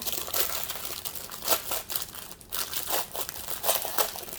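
A plastic packet of diamond painting gems is opened with close, loud crinkling and rustling. The crumpling comes in repeated bursts with brief pauses, and no one speaks.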